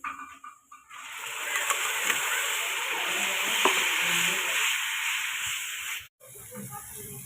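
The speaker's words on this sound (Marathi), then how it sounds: "मसाला टाकून चांगला असं मिक्स करून चांगलं फ्राय करून घेतलं" Spice masala sizzles and fries in oil in a pan as it is stirred, a loud, steady close hiss with scraping stir noises, cutting out abruptly near the end; tomato puree is being cooked in.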